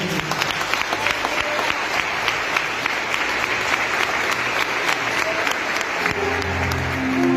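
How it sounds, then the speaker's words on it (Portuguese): A church congregation at a men's congress claps hard and fast together, a loud, continuous rhythmic burst of palms with a faint voice or music appearing near the end. "As palmas bem fortes que exaltam a Deus."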